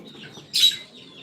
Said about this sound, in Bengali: আসছে আসছে মুরগিগুলো আসছে আমার